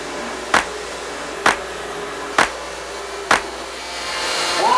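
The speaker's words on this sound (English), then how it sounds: "So I just went into the grinding room to grind this up and see if there was any problems with the welds." Grinder in a grinding room working a pattern-welded steel katar dagger blade: a loud, steady whirring roar, broken by four evenly spaced sharp ticks and rising slightly in pitch at the end, with no voices.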